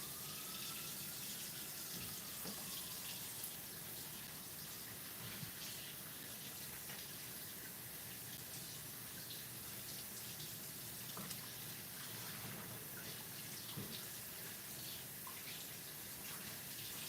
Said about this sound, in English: we're just going to give them a rough rinse and hope they split apart